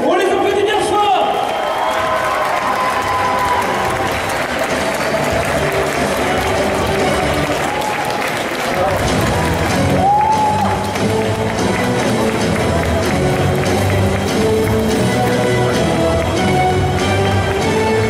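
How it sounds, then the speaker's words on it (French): A crowd at an indoor cosplay contest claps and cheers for cosplayers gathered on stage for a group photo, a steady dense wash of applause lasting throughout, with voices mixed in beneath. "On les applaudit bien fort."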